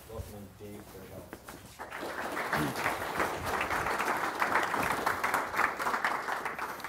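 Seminar audience applause breaks out after a brief spoken introduction, then builds into steady, moderately loud clapping from a room full of people that continues to the end.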